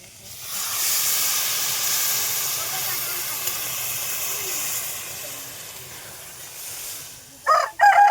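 Loud steady hiss of water hitting a hot pan of frying small river crab and Malabar spinach curry, sizzling continuously for several seconds before a couple of sharp clinks near the end.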